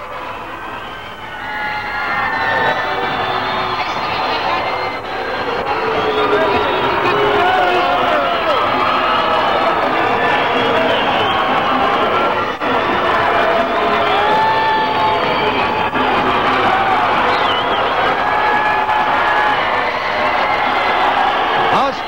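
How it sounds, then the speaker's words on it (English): Noisy, enthusiastic crowd at a 1994 boxing event in Albuquerque, New Mexico, cheering and shouting steadily and loudly throughout, a dense wash of many voices with whoops rising above it. "we'll have a noisy, enthusiastic crowd"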